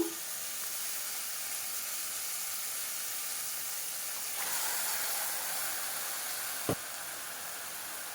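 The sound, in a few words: marinated chicken added to hot pan, sizzling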